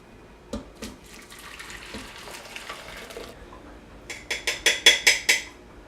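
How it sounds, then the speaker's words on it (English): Boiling water splashes and runs into a sink, with a gentle pour early on, then a series of louder rhythmic splashing bursts near the end. "Time to pour it in the sink."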